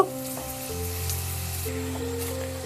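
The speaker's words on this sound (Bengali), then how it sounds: "এবার আমি এর মধ্যে দিয়ে দেবো পুর ভরা রুটিটাকে এপিট ওপিট করে ভালো করে লালচে করে ভেজে নেব" A stuffed wheat-flour roti frying in hot oil gives a continuous close sizzle with a low steady hiss, no voices over it.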